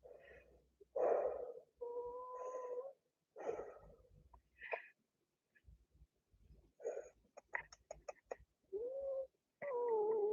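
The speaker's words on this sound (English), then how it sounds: "I'll put you down, you grumpy cat." A grumpy cat vocalizes indoors in a kitchen during flatbread making, giving several close, moderately loud moans and grumbles in short bursts separated by pauses, with soft breathy and snorting sounds between them.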